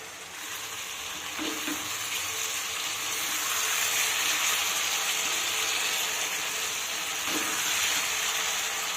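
Small fish fry in a pan for a spicy chorchori, giving a continuous, faint, even sizzle with a couple of soft stirring knocks, heard alone without talk.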